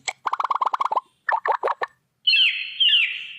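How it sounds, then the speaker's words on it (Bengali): A bird-chirp ringtone plays from a mobile phone: rapid bursts of bright tweets, a short pause, a few more chirps, then a longer trilling warble, all clear and close with no talking. "দেখো এই যে পাখির শব্দ এটা আমি সেট করে রাখলাম"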